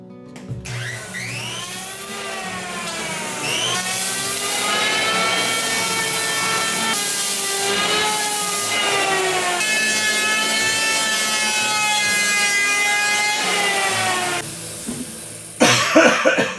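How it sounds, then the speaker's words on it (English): A large circular saw able to cut about 75 mm deep bites into a new engineered building material on a construction site, with a loud, sustained whining cut that holds for over ten seconds before spinning down. "So I'm using the biggest circular saw I have on site, one that can cut about 75 millimeters deep"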